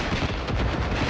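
Loud, dense gunfire in the video game Far Cry 5 comes as a rapid string of heavy shots and blasts that blur together over about a second, with no talking.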